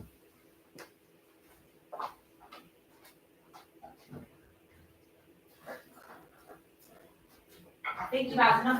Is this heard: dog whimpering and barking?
yes